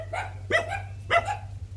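A dog gives two sharp, separate barks close by, with a low steady hum underneath in a home by a doorway.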